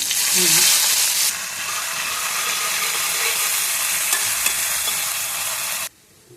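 Chillies, onion and garlic are tipped into a hot pan of oil as a tempering, setting off a loud, dense hiss and sizzle that holds steady and then cuts off abruptly near the end.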